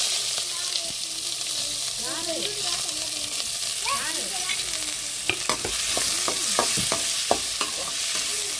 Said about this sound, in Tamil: நல்லா வெங்காயம் நல்லா வதங்கி வரட்டும்